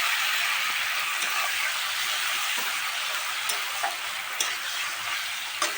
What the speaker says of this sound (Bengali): এবার ওতে আমি মশলাগুলো সব দিয়ে দিলাম, দিয়ে ভালোভাবে কষে নিতে হবে